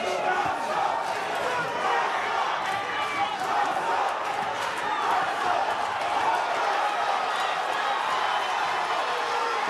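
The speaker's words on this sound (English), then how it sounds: "The crowd really buzzing here." Boxing arena crowd before a Thomas Falowo vs. Russell Lamour bout, a dense continuous buzz of murmuring voices and scattered shouts filling the hall at a steady, moderate level.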